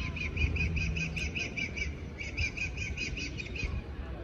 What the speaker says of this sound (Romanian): o pasăre care țipă foarte ciudat